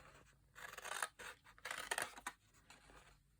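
Scissors fussy-cut a paper butterfly in close, crisp snipping strokes, several rapid cuts grouped in bursts with short quiet gaps between them.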